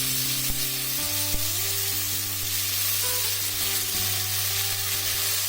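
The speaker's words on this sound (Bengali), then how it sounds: "এবার ওই তেলে আলুগুলো হালকা ভেজে নেব" Potatoes and bitter gourd fry in hot oil in a pan for a home-cooked curry, a steady close sizzle running without pause, with a faint tonal hum behind it.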